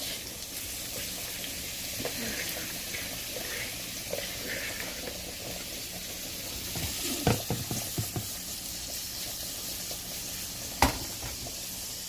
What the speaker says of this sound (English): we're going to go ahead and add in our onions and sausage